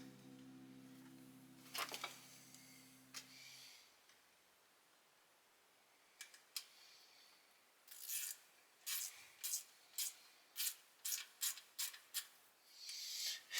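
Ratchet wrench tightening the water pump bolts on a Volvo 240 engine, heard as close, quiet bursts of rapid clicking in short repeated strokes, with a low hum fading out early and no talk.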